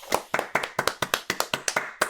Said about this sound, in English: So clap it up for Hungary